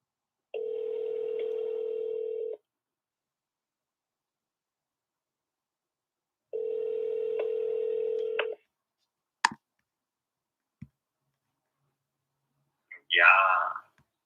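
Two long steady dial tones on a phone line while calling back a real estate lead, each about two seconds, separated by quiet, followed by a couple of brief clicks and a short burst of speech at the end.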